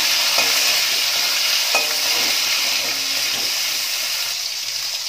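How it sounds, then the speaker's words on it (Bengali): Chopped tomato sizzles loudly and steadily in hot oil with whole cardamom, cinnamon and cloves, with a few soft stirring knocks from the pan and no voices. "এবার এর মধ্যে দিয়ে দিলাম টমেটো কুচি।"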